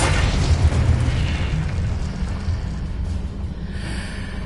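In the Hogwarts Legacy video game, the Confringo spell detonates with a loud, deep boom that rolls out and decays into a rumbling, noisy tail over several seconds.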